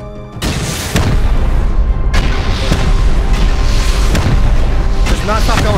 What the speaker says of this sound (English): They're gonna rocket us.